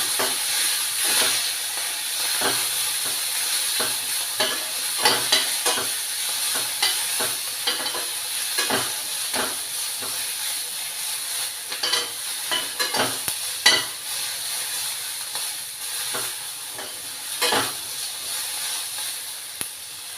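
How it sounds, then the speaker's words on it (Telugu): Peanuts frying in a pan with fresh coriander added for a tomato-coriander chutney, giving a steady close sizzle with repeated scraping stirs and spatula clicks throughout, no voices. "పల్లీలు వేగిపోయాయి. ఇప్పుడు కొత్తిమీర ఇందులో వేసుకుందాం."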